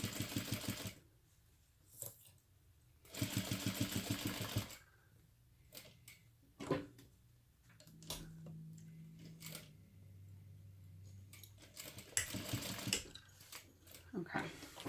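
A sewing machine runs in short bursts of long basting stitches across a crossbody bag's panels, fairly close, the rapid mechanical chatter separated by pauses and quiet handling.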